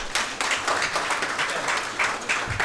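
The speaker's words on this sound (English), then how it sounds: "I want to also give a big round of applause." Audience applause as a woman entrepreneur from Zipboard comes onto the stage at a SaaS event, a steady dense patter of clapping sustained throughout.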